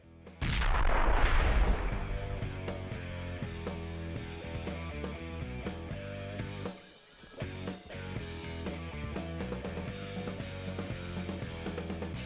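Bomb explosion in the action game Ride to Hell: Retribution, one loud near blast at the start with a rumbling decay, then dense music with repeated percussive hits.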